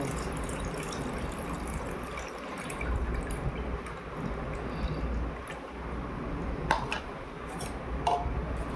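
Soaked black urad dal being rubbed and washed in water, with steady swishing, dripping and splashing of liquid in a vessel close by, no voices.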